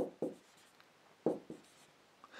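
A pen writes on paper in a few short scratchy strokes, close and quiet, with pauses between them in a lecture setting.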